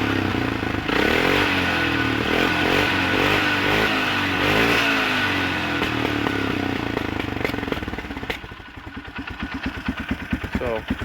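A motorcycle engine fitted with a modified exhaust runs steadily and loud for about eight seconds after a half-hour warm-up, then starts to die as it is shut off with the choke, leaving a sputtering, uneven rumble.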